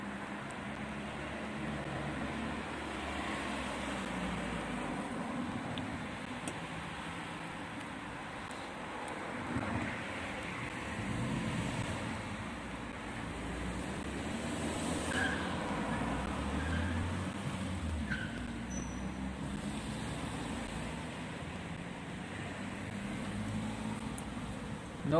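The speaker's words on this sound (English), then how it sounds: "You can hear all the nice cars" Cars pass along a Sofia street during an anti-government protest, a rolling low rumble of traffic that swells and fades as vehicles go by, with wind buffeting the microphone.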